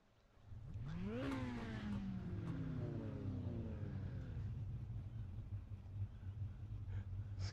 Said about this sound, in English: Cars now out on track